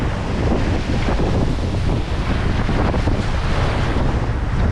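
Strong wind on a Caribbean desert island shore thick with sargassum, a loud continuous buffeting roar across the microphone blended with surf and waves, without pauses.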